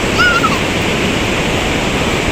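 Continuous surf washing onto the beach at Pantai Mustika, Banyuwangi, on an afternoon, a steady broad rush of waves heard close, with a brief faint whistle-like tone early on.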